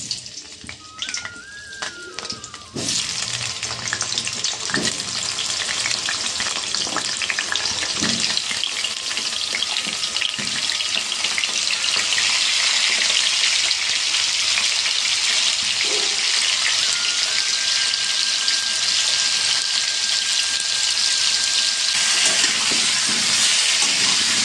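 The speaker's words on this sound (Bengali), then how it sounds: "এই আলুগুলো আগে ভাজতে দিয়ে দিই।" Potatoes that had turned dark frying in oil in a wok (kadai), a steady loud broadband sizzle that jumps up after a couple of seconds and continues throughout, with occasional clinks and faint kitchen sounds.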